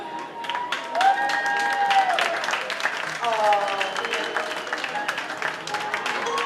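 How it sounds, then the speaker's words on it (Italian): Audience applause fills a fashion pageant hall as a contestant walks the runway, steady dense clapping throughout with a host's amplified voice speaking over it. "con i vostri applausi."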